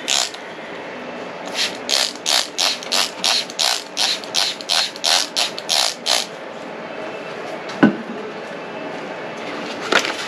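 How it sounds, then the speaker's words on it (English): A spray bottle is pumped about a dozen times onto seeds in a planting jug, in a quick, even rhythm of short hissing sprays, followed by a single soft knock. "And I'll spray it in."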